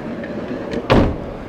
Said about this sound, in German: Mach mal kurz die Tür zu, bitte, dass wir mal sehen, wie schön das aussieht, wenn es geschlossen ist.